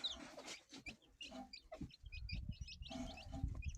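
Chickens cluck in short, scattered bursts over a busy farmyard background, with some low rumbling noise in the second half.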